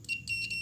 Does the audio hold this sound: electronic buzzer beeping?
yes